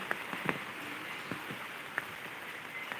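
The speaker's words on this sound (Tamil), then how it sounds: "இன்றைக்கி தான் அதிகமான மழை பெய்யுது" Rain falls steadily at a country chicken farm, a dense hiss with scattered individual drops pattering close by on a surface.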